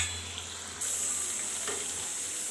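Pointed gourd and potato fry in a pan, giving a faint, steady sizzle with a soft hiss and no voices.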